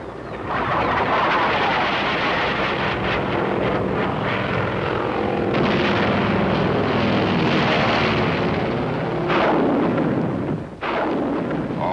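Korean War artillery barrage laying down a fire curtain ahead of advancing infantry, a dense continuous roar of blasts and rumble with aircraft engine drone mixed in, sustained and loud with sharper bursts near the end.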